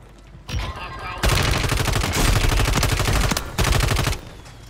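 Rapid bursts of automatic gunfire from a first-person shooter video game, loud and sustained in long strings of shots with brief pauses between them.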